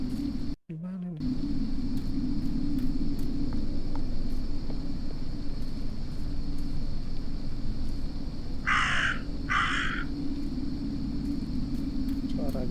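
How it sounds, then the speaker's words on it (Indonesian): Crows cawing in the horror video game Martha Is Dead, two short caws near the end over a constant low ambient rumble and game music. "Suara gagak."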